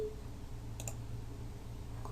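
Computer mouse clicks while changing Windows control panel settings: a quick pair of faint, close clicks over a quiet hum, then silence.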